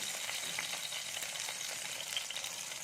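Balls of bread dough fry in hot white oil, giving a faint, steady crackling sizzle with small scattered pops and no voices.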